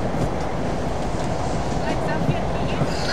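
A commuter electric train rolls along, heard from inside the carriage as a continuous rumbling, rattling clatter with a steady hiss, fairly loud and close, with faint murmuring voices in the background.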